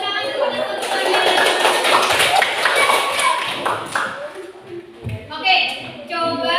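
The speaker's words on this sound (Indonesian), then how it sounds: "tepuk tangan dulu, tepuk tangan." Children in a classroom clap their hands together in a busy, fairly loud burst that fades toward the end, with voices and chatter mixed in around it.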